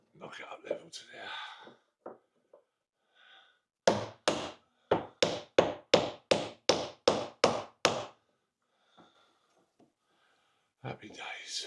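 Hammering timber up level to a marked set-square line on a ceiling during a complete rip-out: a burst of about ten sharp, evenly spaced wooden knocks, close and loud, with talk before and after.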